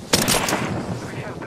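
Gunfire in the Apex Legends video game, a sharp close burst of rapid shots that fades into a reverberant tail, with game voice callouts mixed in.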